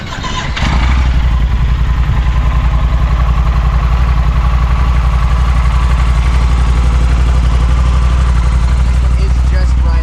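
A 2012 Yamaha Super Tenere motorcycle with about 60,000 miles cranks briefly and fires up, then settles into a loud, steady, close idle with an even low pulsing thrum.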